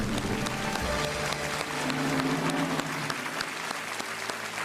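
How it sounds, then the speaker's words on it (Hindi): A television quiz show's studio audience claps in a sustained, even round, fairly loud, with faint tonal music or stage sound running beneath. "तालियां बजती रहनी चाहिए देवी और सजनों।"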